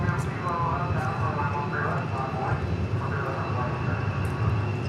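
Gulfstream business jet at Dallas Love Field, a steady engine whine and rumble at moderate distance, lasting throughout with some background noise.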